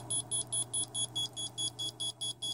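A rapid series of short, high electronic beeps from a racing quadcopter's flight controller after submersion in a pond, in a steady rhythm, about a dozen in a row, over a low constant hum.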